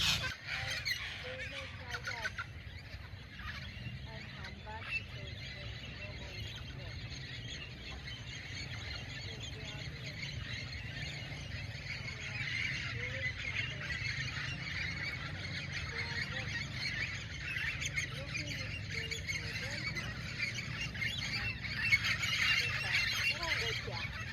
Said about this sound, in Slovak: To sú všetko papagáje.